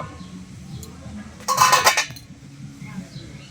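A metal lid comes off a cooking pot of soya chaap with a single short, bright clatter and rattle in the middle, close by, over a low, quiet background.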